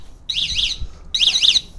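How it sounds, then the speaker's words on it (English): A basic two-wire anti-theft alarm on a Fiat 500 goes off after the car is bashed, giving two loud, close bursts of rapid warbling electronic chirps with a short gap between them. "You can adjust the sensitivity of this alarm."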